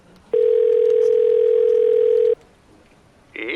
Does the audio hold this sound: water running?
no